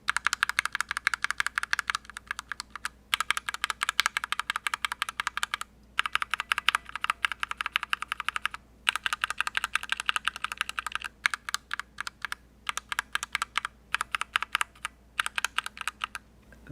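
Typing on a mechanical keyboard with H1 and Alpaca linear switches, a steady stream of close, crisp keystroke clacks in bursts separated by brief pauses, no voices.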